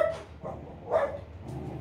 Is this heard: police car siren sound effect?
no